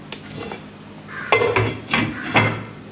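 Several close metallic clanks and scrapes ring out as a lid is set onto a pot of boiling fish curry, four distinct knocks in quick succession, fairly loud against a quiet kitchen background.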